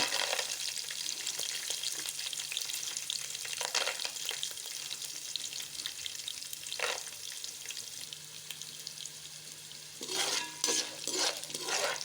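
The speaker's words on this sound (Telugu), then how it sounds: "ఇలా అయితే ఆయిల్లో అయితే మంచిగా వేయించుకోవాలి ఈ పల్లీలు" Peanuts fry in hot oil with green chilies and raw chana dal for a poha mixture, giving a steady bright sizzle throughout, with occasional stirring scrapes and a denser crackling burst near the end, no voices.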